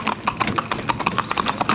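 A bay horse's hooves clip-clop in a quick, even rhythm on a hard surface, close and distinct, with a faint voice in the background.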